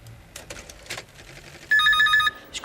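A telephone bell rings in short rapid bursts for about half a second, loud and close, following quieter rustling and soft indoor movement.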